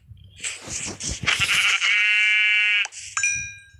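Sheep bleating in Minecraft, a loud close game bleat with wavering tone lasting about a second, then a shorter second bleat, alongside game footsteps and thuds.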